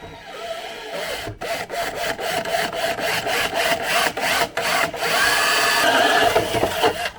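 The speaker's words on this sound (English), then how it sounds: "let's drill the holes out and see what we're left with" A drill grinding holes through a plastic Reliant Kitten dashboard in short repeated bursts, close and harsh, with brief pauses between passes and no talking.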